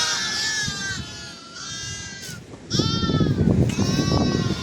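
Repeated high, wavering bleats of a young goat being carried, several calls in a row with gusty wind noise underneath, fairly close.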